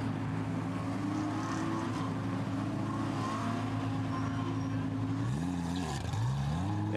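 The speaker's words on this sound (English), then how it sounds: "The Audi goes down the pit road then." An Audi GT4 race car drives down the pit road at the Monza circuit, its engine a steady low drone in the middle distance. Near the end there are a couple of quick rev swells as it changes speed.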